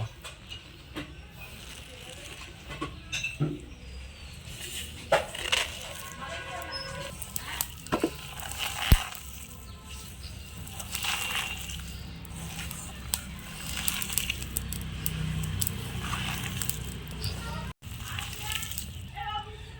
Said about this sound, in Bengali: এবার এটা আমি ভালো করে চটকে নেব